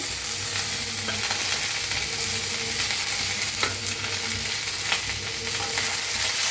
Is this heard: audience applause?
no